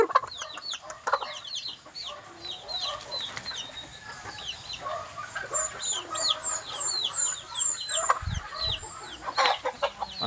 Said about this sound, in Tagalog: Andun pa yung iba ko manok.